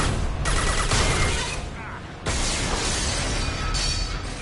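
Gunfire in the Mass Effect 2 video game: a dense, loud burst of shots and impacts fills the whole clip, dipping briefly at mid-point before another sustained barrage.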